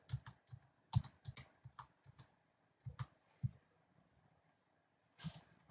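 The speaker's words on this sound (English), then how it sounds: "in the server field, we're going to type the Windows IP address." Keys tapped on a computer keyboard while entering an IP address, a quiet, close sequence of separate clicks in short irregular bursts with brief pauses.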